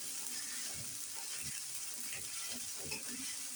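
Mutton frying in a pot hisses quietly and steadily as cardamom and cinnamon go in, with soft stirring scrapes underneath the continuous sizzle.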